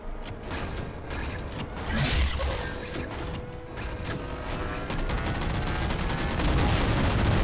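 Rapid, sustained gunfire from Halo 4, a dense mechanical rattle of shots layered over rumbling combat noise, loud and continuous throughout.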